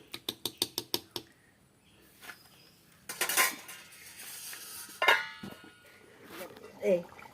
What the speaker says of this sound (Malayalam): നമുക്കിത് മൂടി വയ്ക്കാം കേട്ടോ.